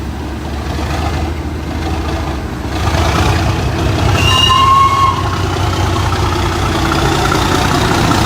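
A mainline steam train idles with a steady low rumble, swelling slightly midway, with a brief high squeal from the rails.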